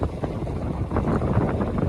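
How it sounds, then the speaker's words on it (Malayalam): Steady wind gusts buffet the microphone on a village road beside paddy fields in Palakkad, a continuous low rumbling roar with no voices. "നല്ല കാറ്റടിക്കുന്നുണ്ട്"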